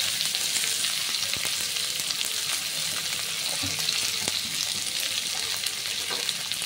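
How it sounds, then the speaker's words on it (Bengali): Chopped onions frying in a pan, a constant close, even sizzle and crackle of hot oil with faint occasional stirring ticks and no talking. "এবার এর মধ্যে কুচনো পেঁয়াজগুলো দিয়ে দেবো।"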